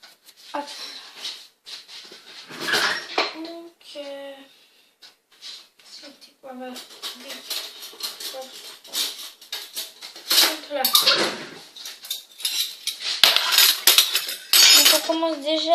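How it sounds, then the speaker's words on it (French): Spoons clink and scrape in bowls while mixing food colouring into batter for a rainbow cake, with repeated metallic taps and stirring sounds close by, under intermittent talking. "Maintenant on va prendre des cuillères, on va mélanger le colorant."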